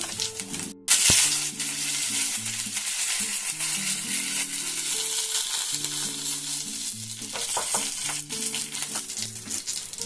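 White cumin seeds and chili sizzle loudly in hot oil, a continuous close crackle and spatter with a burst of popping near the start and a faint low hum underneath.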